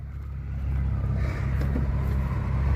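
A Jeep Comanche pickup engine idles a little low, likely after electrical trouble, giving a steady near rumble that swells slightly after the first half second and holds.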